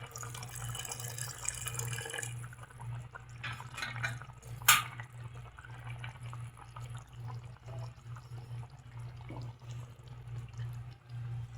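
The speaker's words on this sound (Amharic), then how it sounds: "ትንሽ ውሃ ጠብ እናደርጋለን የሞቀ ውሃ።" Warm water is poured into a chicken stew in a home kitchen, a faint trickle and splash with a brief sharp clatter midway over a steady low hum.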